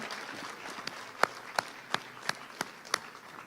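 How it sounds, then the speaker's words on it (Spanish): A congregation claps during a Tuesday evening church service, a handful of crisp claps landing in a slow, steady rhythm over a faint, hushed room background. "Dele fuerte el aplauso al Señor, hermanos, y vamos a orar."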